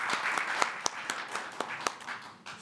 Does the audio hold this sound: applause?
yes